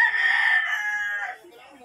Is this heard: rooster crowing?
yes